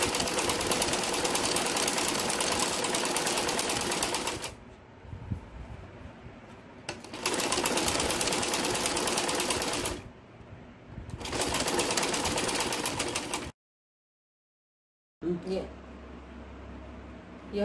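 A sewing machine stitches a salwar at home in three long close bursts with short pauses between, its rapid, dense mechanical chatter loud, followed by a brief silence and a softer stretch of handling sound.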